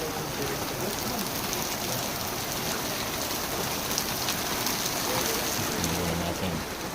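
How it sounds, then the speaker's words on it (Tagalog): Steady rain pours down outdoors somewhere in the Philippines, a dense, constant close hiss that runs unbroken for the full seven seconds with no talking over it. "Rain, rain, go away."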